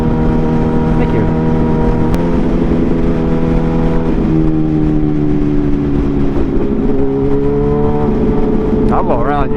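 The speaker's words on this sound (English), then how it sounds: "yeah, single lane road with traffic, nah, I'm good." Steady car traffic on a single-lane road, a continuous droning engine hum heard from inside a vehicle, loud and unbroken throughout.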